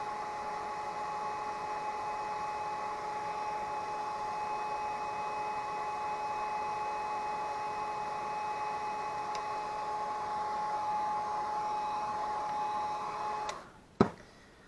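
Hair dryer blowing steadily close by to dry watercolor paint on a loose hydrangea floral card, a continuous even whir that cuts off abruptly near the end with a click.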